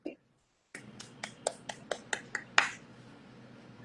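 About eight sharp claps ring out one after another at a steady, slightly quickening pace after a brief pause, fairly close and clear, with the last one loudest; faint voice traces in the background.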